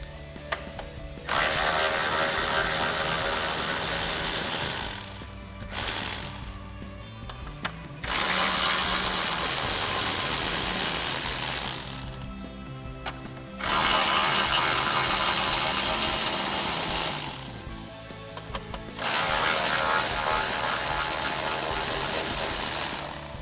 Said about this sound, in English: we can go ahead and remove our 4 10mm bolts at the top of our grill, holding it in.